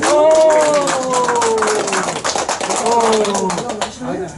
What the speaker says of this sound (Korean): 크게 한번 박수 한번 주십시오.